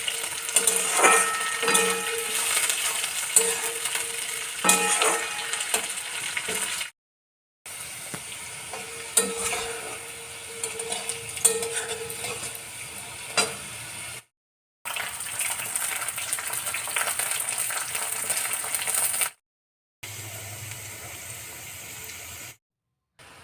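Green beans and mixed vegetables sizzle in an oily pan, the frying hiss punctuated by spatula stirs and scrapes, running in several sections separated by short silent cuts.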